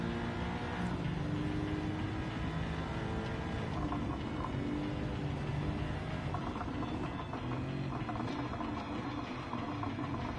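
Anti-lag exhaust from an AMG GTR racing car in Gran Turismo 7, a steady loud engine drone with rough crackling texture running continuously throughout, with no talking.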